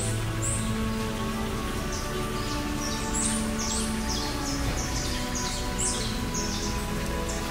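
Rain falls steadily at a flamingo enclosure during an after-hours zoo encounter, a constant hiss of drops with scattered bird chirps and calls over it throughout.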